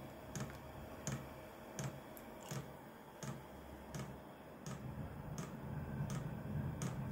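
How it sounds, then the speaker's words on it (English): A diesel heater's fuel pump ticks in a steady, evenly spaced rhythm of sharp clicks, roughly one per second, against a quiet background hum as the heater starts up. "there's the pump ticking away"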